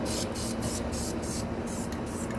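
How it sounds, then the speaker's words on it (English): Short bursts of aerosol spray misting plastic restoration product onto interior trim of an OBS Chevy short bed truck, several hissing pulses in steady rhythm, close and loud over a continuous background hum. "spray can always sprays better when it's standing up"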